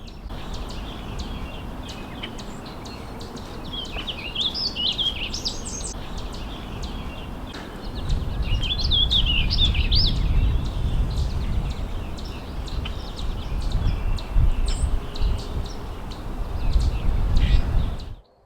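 Small songbirds sing in spring near a pond in northeastern Massachusetts, with bright chirping phrases in brief bursts over a steady background of ambient noise and low rumble, moderately faint.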